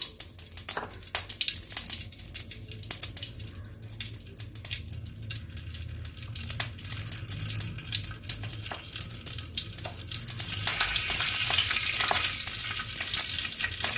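Mustard seeds fry in hot oil, a close, busy crackle of quick pops over a steady sizzle that swells into a louder, brighter hiss toward the end.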